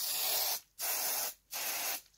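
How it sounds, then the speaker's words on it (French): An aerosol can of artificial snow sprays onto a model ski slope in three steady hissing bursts, each about half a second long, separated by short pauses, close and clear. "Donc je commence avec de la bombe à neige."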